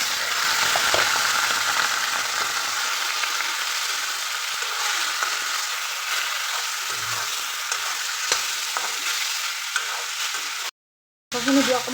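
Meat and onions fry in a pan while being stirred, giving a steady loud sizzle with scraping stir sounds throughout and a brief dropout near the end.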